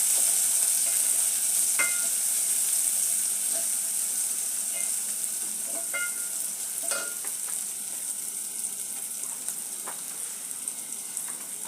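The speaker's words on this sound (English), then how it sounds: "I'll wait for my onion to cook." Onion frying in a pan for a broccoli stew, a steady soft sizzle running throughout with a few faint clicks of utensil or stirring over it, no talk.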